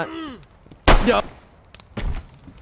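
Video game gunfire rings out in two loud, close bursts, one around the middle and a second shortly after, following a brief wavering electronic tone, with gaps of near silence between.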